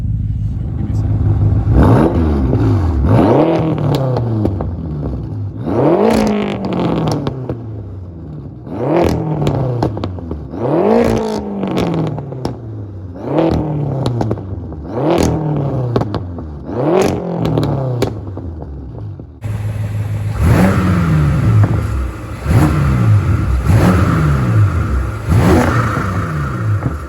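BMW F10 M5 with a BM3 stage 2 aggressive tune revving hard in repeated sharp blips, each rising and falling with crackles, loud and close, then a steadier high-revving stretch near the end.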